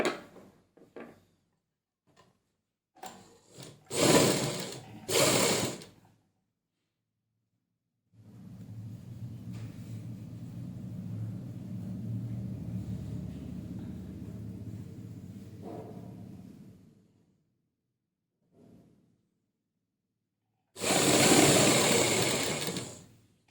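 A sewing machine stitches a folded fabric collar for a half-collar neckline, running steadily for about eight seconds, framed by sharp clacks and handling knocks before and a loud burst of rustling after.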